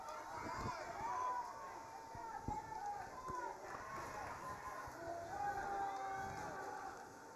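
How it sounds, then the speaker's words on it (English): Crowd and coaches shouting at a girls high school soccer match between the Corry Beavers and the Titusville Rockets: a steady outdoor murmur with scattered distant yells and calls, fairly faint and continuous throughout. "we can hear screams and shouts from the crowd, the coaches"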